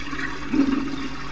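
A toilet flushing in a video game set in a mental hospital: a steady, fairly loud rush of water throughout, alone without voices.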